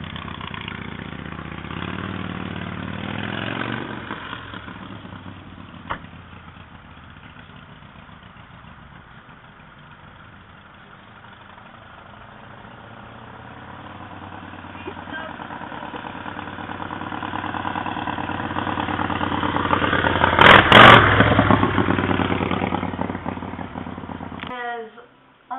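Motorcycle engine idling outdoors on a summer Saturday night, a steady low running drone that swells louder toward the end, with people talking nearby and a brief clatter late on.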